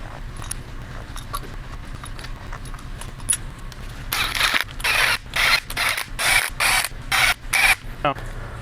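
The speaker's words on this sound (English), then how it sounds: "I'm only using a 1/4 inch gun to run them down with" A 1/4 inch impact gun runs down engine bolts on a 2011 Sea-Doo RXT-X aS 260 engine, hammering in several loud, short bursts after a quiet stretch of faint mechanical background.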